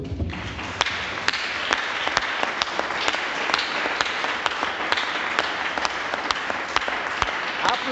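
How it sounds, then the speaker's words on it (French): A church congregation applauds with steady, dense clapping that fills the room, with sharp louder claps standing out through the whole stretch. "Applaudissons-le."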